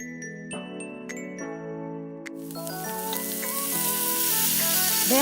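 Shrimp paste hits a hot pan partway through and a bright, hissing sizzle swells and keeps building while it is stirred, under sustained tonal music.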